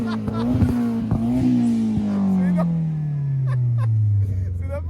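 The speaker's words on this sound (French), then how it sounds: "On va écouter ça de derrière parce qu'il y a un échappement" Car exhaust revving, heard from behind the car at a meet of American, Japanese and German cars: a loud, droning engine note that rises and then falls steadily while the revs drop.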